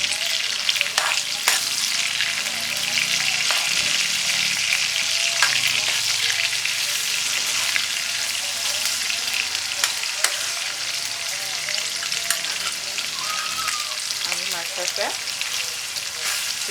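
Onion and pepper sizzle and fry steadily in a pan for a vegetable sauce, a loud continuous crackling hiss with occasional stirring scrapes and pops throughout.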